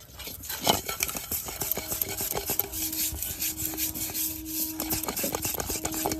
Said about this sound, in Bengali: এইভাবে সাদা তেল দিয়ে ব্রাশ করে নিয়েছি।